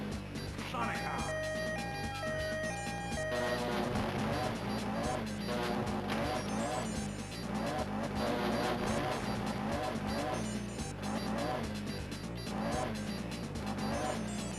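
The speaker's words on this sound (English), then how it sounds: "Why does the engine sound like it's like trying to give up after second gear?" A video game car engine in Smashing Drive on the Game Boy Advance strains and seems to give up after second gear, its steady electronic drone layered with game music while someone talks over it throughout.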